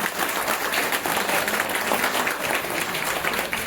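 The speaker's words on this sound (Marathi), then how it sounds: "डॉक्टर प्रवीण बोर्डे भाऊ यांच्यासाठी एकदा जोरदार टाळ्या झाल्या पाहिजे" An audience applauds for Dr. Pravin Borde at a gathering, a dense, steady wash of many hands clapping that stays loud and even throughout, with no pauses.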